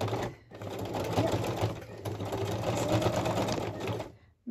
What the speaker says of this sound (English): Just my sewing machine is not going to appreciate this